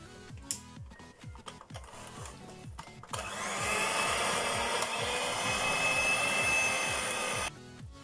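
A kitchen blender whirs steadily as it beats low-carb keto cheesecake batter of cream cheese and sweetener, a loud continuous motor roar that kicks in after a few seconds of clattering handling and cuts off near the end.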